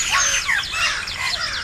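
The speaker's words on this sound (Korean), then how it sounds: "뭔 새소리야." Bird chirping: rapid, high, twittering calls repeat over a steady background hiss, fairly close and continuous for a couple of seconds with no talk.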